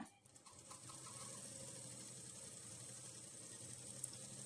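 A sewing machine stitches layered blouse fabric pieces and lining, a faint, steady, continuous whir running through the whole stretch with a brief rustle at the start and no speech.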